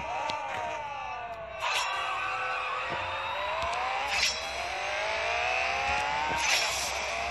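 Drag race car engine in the mobile game CSR Racing 2, revving with rising and falling pitch sweeps and gear-shift surges, steady and loud with faint crowd-like background.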